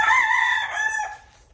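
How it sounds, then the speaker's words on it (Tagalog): A farm rooster crows once close by, a loud drawn-out call that trails off, with faint clucking from chickens underneath. "Ito naman yung aking mga manok."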